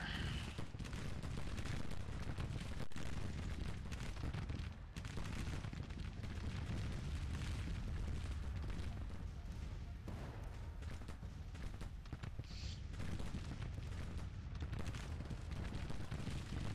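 Massed musket fire from soldiers in a Civil War battle game, a dense continuous crackle of overlapping shots and distant booms rolling on without pause, steady and moderately loud throughout.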